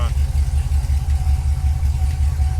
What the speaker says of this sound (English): The car is very loud